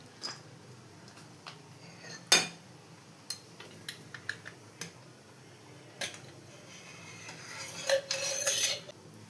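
Steamed chicken puttu knocked and slid out of a metal steamer into a vessel: a quiet run of sharp metallic clinks and taps, one louder clang early, ending in a short scraping rattle.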